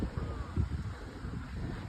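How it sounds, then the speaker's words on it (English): Wind gusting across the microphone outdoors in Osaka, a low rumbling buffet that rises and falls unevenly throughout, with no talking. "It's very windy today."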